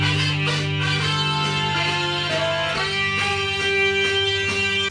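A song with a dense band arrangement of sustained chords and a melodic line rising through changing notes, loud and continuous with no talking.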